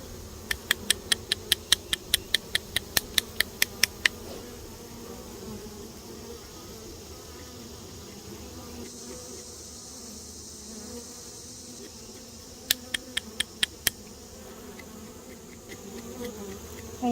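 Honey bees hum in a low, continuous drone close by during a powdered sugar shake for varroa mites, while sharp rhythmic rattling taps come in two bursts, near the start and again later.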